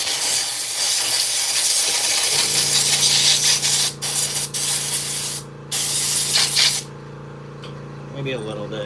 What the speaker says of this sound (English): Okay, maybe now some parts cleaner.